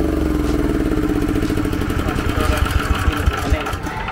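A small engine runs steadily at a CCTV solar installation site, a loud, rough, chugging drone with clattering pulses throughout. A voice speaks over it.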